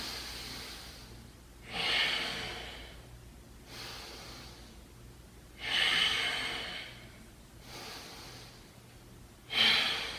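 Slow, deep breaths during a yoga pose, three long airy exhales at an even pace, close and clear with quiet pauses between them.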